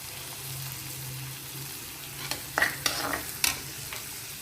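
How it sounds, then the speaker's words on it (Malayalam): Curry leaves tossed into Kerala-style rava upma cooking with coconut milk in a pan, a soft steady sizzle joined by a few sharp spoon scrapes and clinks partway through. "ഇനി നമുക്ക് കറിവേപ്പില കൂടെ ചേർത്ത് കൊടുക്കാം."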